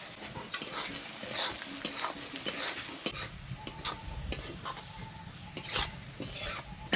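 Onions fry with a little sugar in a pan, browning into crisp birista for chicken biryani. A spoon stirs and scrapes repeatedly over a steady sizzle, close and fairly quiet.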